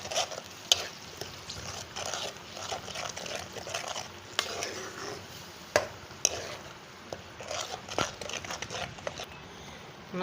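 A spoon scrapes and stirs spices cooking in a pan, with steady sizzling frying underneath and irregular clinks and scrapes against the metal, close and moderately loud.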